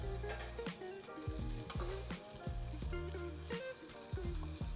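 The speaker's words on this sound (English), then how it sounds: "We're gonna cook the salmon for 2 to 3 minutes on the crusted side, and then we're gonna turn it over" Hemp-seed-crusted salmon sizzles in hemp seed oil in a pan, a steady bright frying crackle under background music.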